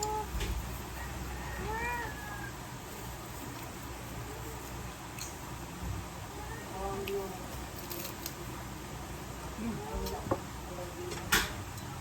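A cat meows faintly and repeatedly, with short mewing calls spread across the whole stretch over constant background hiss and a few light clicks, while someone eats lumpiang toge nearby.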